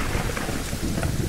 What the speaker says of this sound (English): And when the gases turned into clouds, the world began to rain.